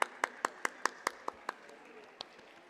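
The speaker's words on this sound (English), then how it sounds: "Give a big round of applause." Crisp hand claps at a school annual day celebration: about eight quick, evenly spaced claps that fade, then one last clap, close and fairly sparse rather than a full crowd.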